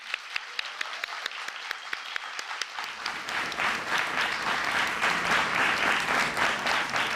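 A small audience begins with a few sparse, separate claps, then swells into steady, dense applause that fills the room and holds to the end.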